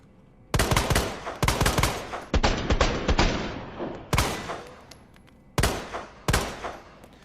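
Three-round bursts from a rifle in Resident Evil 2 Remake, fitted with a high capacity magazine and muzzle brake, fire as six loud, close bursts of rapid shots in quick succession, with short pauses between them and no talking.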